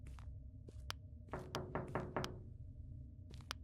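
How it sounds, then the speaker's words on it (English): Several sharp knocks on a door echo in the S.W.A.N. Chernobyl Unexplored video game, in an irregular cluster of four or five raps over a low ambient hum, fairly close and moderately loud. "Oh, somebody's knocking, huh?"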